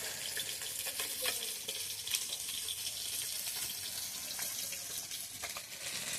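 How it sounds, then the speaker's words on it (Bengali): Kitchen cooking with a steady sizzling, frying hiss and watery splashing, faint and continuous with small clinks throughout. "আমি এখানে রান্না করছি।"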